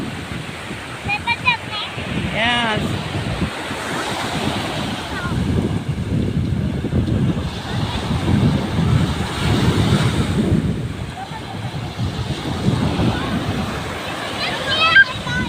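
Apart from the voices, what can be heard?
sea waves on beach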